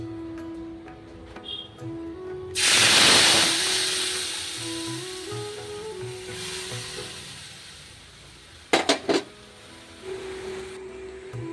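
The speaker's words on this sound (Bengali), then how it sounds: "তেলটা একটু গরম হয়ে গেলে এটার মধ্যে দেব একটা তেজপাতা আর একটু গরম মশলা, গোটা গরম মশলা দেব" A bay leaf and whole garam masala of cardamom, cinnamon and cloves hit hot oil with a sudden loud hiss that fades into a softer sizzle, followed later by a couple of brief clatters against the pan.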